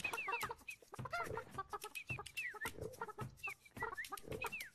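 Cartoonish chickens in the video game Burly Men at Sea cluck and squawk continuously, a busy overlapping stream of short calls with no talk.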